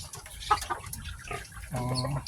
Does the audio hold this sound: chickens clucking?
yes